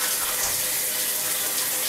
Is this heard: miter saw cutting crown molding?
no